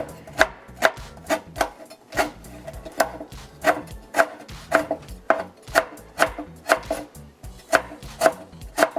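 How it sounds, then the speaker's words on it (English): A knife chops food on a cutting board while ingredients are prepared for a seafood boil, making a steady run of close, sharp knocks at an even quick rhythm, with no voices over it. "Just finely chop, not really finely, you know, just chop it really good."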